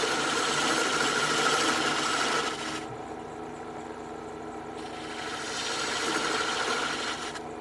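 Sharp chisels cutting olive wood on a spinning lathe while a cylindrical box is turned, a steady close rasping hiss with a quieter dip in the middle before the cut picks up again.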